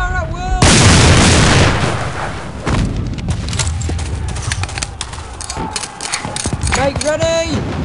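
Massed musket volleys crack out in the Battlegrounds game during a line battle, a loud booming burst followed by scattered rolling shots and echoes, with shouted commands and birdsong around the gunfire.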